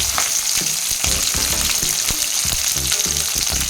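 Green chillies hit hot oil over spluttered mustard seeds, a loud, dense, close sizzle with bursts of crackle and occasional stirring knocks.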